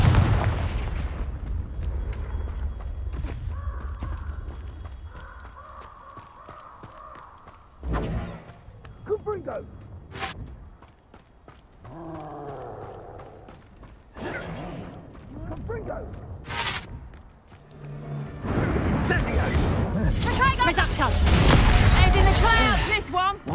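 Confringo spells blast repeatedly during a Hogwarts Legacy duel, sharp explosive bursts and booming impacts scattered through the fight, with a person shouting and talking loudly between and over the blasts.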